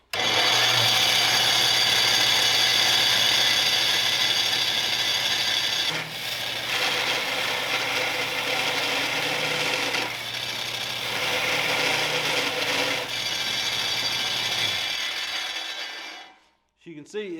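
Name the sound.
belt sander sanding sheet metal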